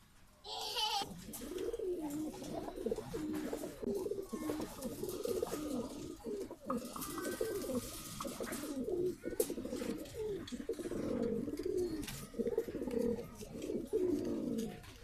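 Male red-necked pigeon cooing repeatedly beside a female, a steady run of low, throaty coo phrases rising and falling across the whole stretch, close and fairly loud with no talking.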